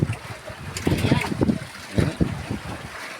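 Sea water splashing against a small boat on the open sea, with choppy bursts of spray and wind buffeting the microphone, while people talk nearby.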